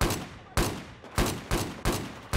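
Gunfire in the video game Battlefield 4: five loud, sharp shots at a steady pace of roughly one every half second, each with a long ringing decay.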